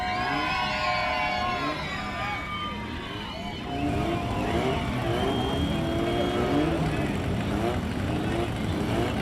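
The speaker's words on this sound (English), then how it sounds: "That's the rumble I love to hear." A Class 11 off-road race car engine rumbles deep and steady, with rising and falling revs, under a lively crowd at a Baja race event, and voices can be heard throughout.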